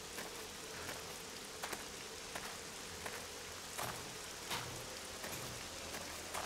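Steady rain in the video game 7 Days to Die, a faint continuous hiss with occasional brief, louder drop taps and no voices.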